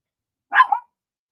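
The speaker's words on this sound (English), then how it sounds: "These dogs are going to go crazy." A single short dog bark, close and clear, alone against silence.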